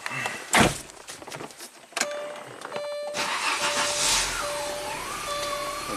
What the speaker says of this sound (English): Now let's start the car, turn the AC to max